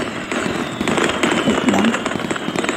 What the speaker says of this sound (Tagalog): May fireworks na naman.